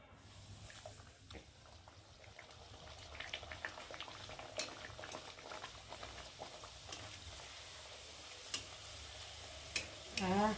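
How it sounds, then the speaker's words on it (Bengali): Pea-filled kachori frying in hot oil in a wok, a soft continuous sizzle and bubbling with scattered crackles and pops, fairly quiet and close, with no talking. "তো চলো এখন একটা ভেজে দেখি কেমন হয়।"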